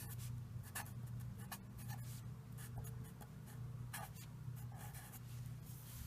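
Pen or marker writing out the definition of a derivative, soft scratchy strokes in irregular bursts over a low steady hum, faint and close.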